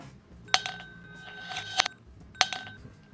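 An ice cube clinks against a glass of Redbreast Irish whiskey, giving a few bright, ringing taps spread over a few seconds, close and fairly faint, with small rattles between them.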